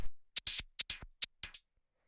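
A sequence of short, bright modular synth notes, each with a sweeping filter modulated by an LFO, sounding in an uneven rhythm with silence between them, made with Ableton devices.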